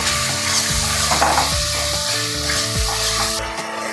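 Spiced brinjal with turmeric sautéing in a pan, loud continuous sizzle with soft stirring scrapes and a steady low hum underneath.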